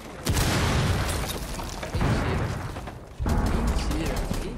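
Grenade explosions in Rainbow Six Siege: three loud, deep booms, each with a rumbling tail that fills the space before the next hits, spaced about one and a half seconds apart.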